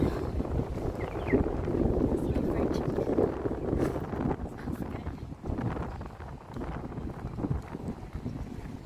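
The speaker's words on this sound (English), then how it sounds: "So it's nice and breezy right now, which makes it really nice to be walking downtown." Breezy wind buffets and rumbles across the microphone outdoors in downtown Calgary, under a person speaking, with faint city background noise.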